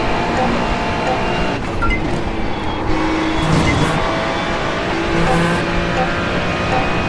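Ferrari GT3 race car engine in a racing video game, a steady loud drone held throughout with mild rises and dips in pitch, with people talking over it.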